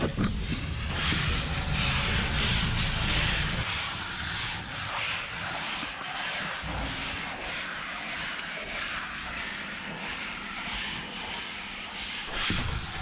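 Hand longboard sanding on an old sailboat hull, a continuous broad rasping scrub that runs steadily and close for the whole stretch, with no talk.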